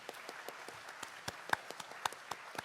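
Scattered clapping from an audience thanks NAACP colleagues from Martha's Vineyard, a sparse and fairly faint round of irregular claps from a modest crowd at a voting rights forum, with no one speaking over it.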